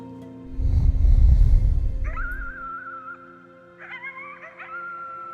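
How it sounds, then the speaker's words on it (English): A howling at the moon in the video game Before Your Eyes: a loud, rough vocal burst gives way to wavering, whistle-like howling tones that rise and hold, then repeat in shorter bursts. "You howled at the moon at the top of your lungs."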